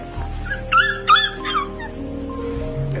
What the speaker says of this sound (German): desperate mama dog was begging passersby to help her